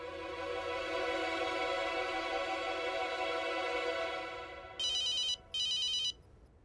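A telephone rings in two short electronic bursts near the end, following a sustained musical tone that fades out beforehand.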